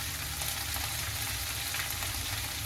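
Chutney masala frying in a pan while being stirred slowly, giving a quiet, even, continuous sizzle with no talking.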